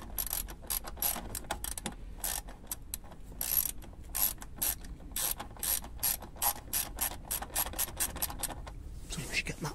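A ratchet tightens a Torx bolt during a fuel filter change on a BMW E60 5 Series, giving a long run of quick, close clicking strokes in uneven bursts.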